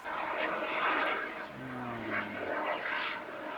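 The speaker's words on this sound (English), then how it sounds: "Helicopter. Helicopter." Helicopter passing overhead outdoors, a steady broad rotor and engine roar that swells and fades over a few seconds with a low droning hum, heard alone without talk.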